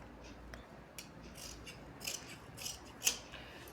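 Scissors snip through blouse lining fabric in a handful of quiet, close cuts. Each crisp blade closure lands separately over a soft background hush, and the final cut is the sharpest.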